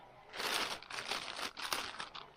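Plastic packaging on a parcel from China crinkles as it is opened, giving a series of quiet, close crackling bursts that rise and fall in quick irregular handfuls.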